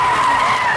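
A 2024 Ford Mustang drifts, its tires skidding in one continuous, loud, high squeal that holds steady through the short stretch with no voices.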